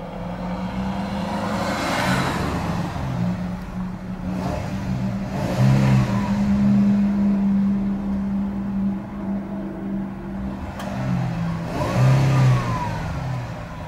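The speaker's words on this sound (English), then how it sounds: "Beautiful sounding engine." A 2012 Jeep Wrangler Rubicon engine idles and is revved repeatedly against a limiter around 4,000 RPM, rising and falling in several pushes over the span, nearby and steady with no voices.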